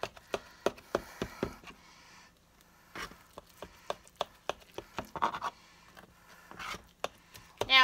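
A knife cuts through a baked strawberries and cream French toast casserole in a dish, giving a close series of sharp taps and scrapes in uneven bursts with short pauses between.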